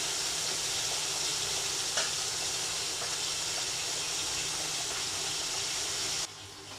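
Bashpata fish curry sizzling steadily in a pan as it is sautéed, a continuous close hiss of frying with faint stirring, easing slightly at the very end.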